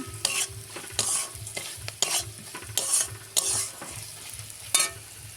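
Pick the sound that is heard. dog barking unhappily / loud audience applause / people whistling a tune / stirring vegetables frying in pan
stirring vegetables frying in pan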